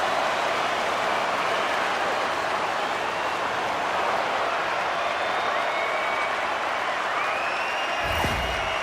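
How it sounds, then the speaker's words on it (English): A hockey arena crowd roars after a Pittsburgh Penguins goal against the St. Louis Blues early in the first period, producing a dense, steady wall of cheering and clapping that holds loud throughout. "The Penguins crowd has really come to life here early in this first period after that goal"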